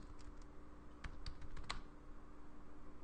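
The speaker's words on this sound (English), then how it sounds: "I'm just typing up the header for all this" Light, quick typing on a computer keyboard, a handful of soft scattered keystrokes clicking close by in a quiet room.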